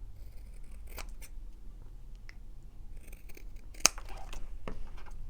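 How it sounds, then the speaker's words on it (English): Scissors cut out a piece of card with a bit of red border left around it, giving several close, crisp snips spread across a quiet background. "if I cut them out with a bit of the red around them"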